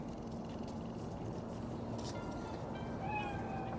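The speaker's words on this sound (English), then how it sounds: "Do you see it? That cat?" A cat in the Cyberpunk 2077 video game, seen in Night City, gives a few short faint meows near the end, over a low steady hum of game ambience.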